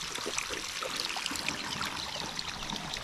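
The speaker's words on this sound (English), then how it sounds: "And now you can see all the water from down there is coming down and it's flooding this area here." Fresh mountain water rushes steadily down a drainage channel in a Black Hmong village in Vietnam, a continuous close splashing flow with no talk over it.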